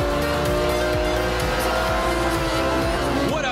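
Racing cars in the video game Forza Horizon 2 drone loudly and steadily with high engine whine, tyre noise and a rising rev near the end, no talk.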